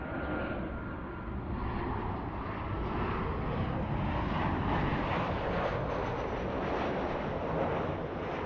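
An American Airlines Boeing 737 airliner in traditional colors passes at LAX with a loud, steady jet engine roar and rush of air that swells slightly across the clip, with no voices.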